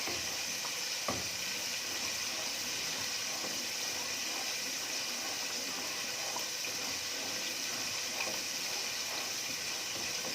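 Chicken wings simmer in a pan with masala, giving a faint, continuous bubbling sizzle with occasional soft clinks and no talking.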